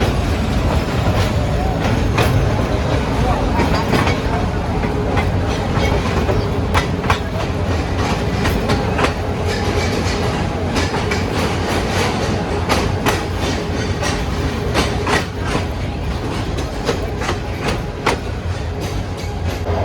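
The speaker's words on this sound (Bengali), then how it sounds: "শ্রীপুর স্টেশনে 2 মিনিটের যাত্রা বিরতি শেষ করে আমাদের কমিউটার ট্রেন আবারও" A commuter train on the Dhaka to Jamalpur line runs steadily over the rails, with a constant loud rumble and a regular clickety-clack of wheels on rail joints throughout.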